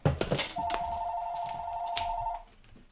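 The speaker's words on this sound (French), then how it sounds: "ça crée un téléphone qui sonne, je reviens" A telephone bell rings in one steady, unbroken tone for about two seconds within a lecture on music analysis, loud and close, then stops, with no talk over it.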